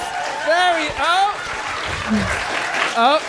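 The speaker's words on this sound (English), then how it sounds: "Just go wild, but with clapping." Live podcast audience at a London festival claps enthusiastically in bursts, with voices calling and talking over the applause.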